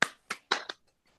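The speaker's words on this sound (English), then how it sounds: "So how about another round of applause?" A few sparse hand claps of applause for poet Jenny Wong at a poetry reading: four quick, close claps in about three-quarters of a second, then quiet.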